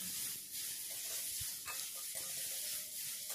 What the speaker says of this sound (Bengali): পেঁয়াজ কুচি দেওয়ার পর হালকা করে নেড়ে চেড়ে নিচ্ছি।